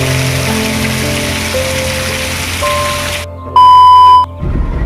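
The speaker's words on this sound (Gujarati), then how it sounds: "આજે વરસાદ ઓવર પડે છે મોરબીમાં" Heavy rain falling in Morbi, a dense steady hiss of rainfall that cuts off abruptly near the end, replaced by a short electronic beep before the noise resumes.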